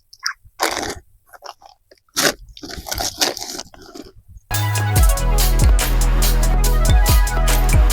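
Homemade biscuit cake eaten with spoons, heard as close, crisp crunching and chewing bites for a few seconds before loud music takes over.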